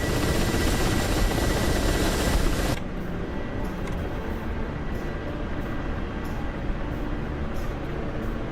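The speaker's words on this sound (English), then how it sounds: "Dual rotor assault helicopter." A KA-53 Black Shark dual-rotor assault helicopter roars loudly and steadily, then drops to a lower, muffled rumble with a faint rhythmic rotor chop.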